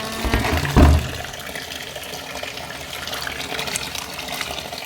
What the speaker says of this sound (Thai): เปิดน้ำไหลทิ้เลยนะคะ